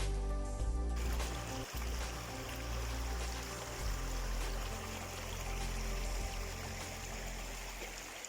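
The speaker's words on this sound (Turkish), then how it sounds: "Zaman zaman dinleteceğim suyun sesi dinlenmenizi sağlayacak ve sizi kendine hayran bırakacaktır." A water stream flowing through Koramaz valley, a steady broadband rush that stays loud and close throughout, with no voices.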